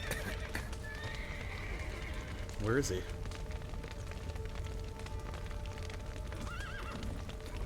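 Horses in The Witcher video game neigh and whinny over clip-clopping hooves and game sound, with a loud whinny mid-clip and someone talking briefly.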